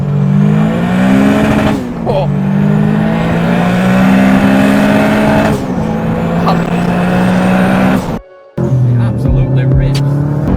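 A turbocharged Honda Civic EP3 with a bonnet exit wastegate revs loudly and close, its engine note holding and swelling in long pulls, with a short cut-off near the end before it picks up again.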